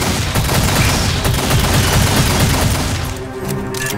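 Continuous loud gunfire from a weapon in the video game Aliens: Fireteam Elite, a rapid dense barrage of shots lasting several seconds before easing off slightly.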